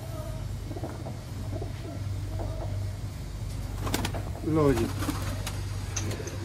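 Soft, low cooing from Golden Ferozpuri pigeons repeats through a steady hum, with a louder burst of cooing near the end, close by.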